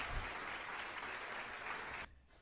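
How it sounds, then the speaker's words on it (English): An online tech conference audience claps in a dense, even burst of applause that holds steady for about two seconds and then cuts off abruptly. "Where is the clapping?"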